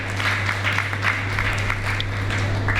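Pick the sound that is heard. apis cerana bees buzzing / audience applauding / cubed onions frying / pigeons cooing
audience applauding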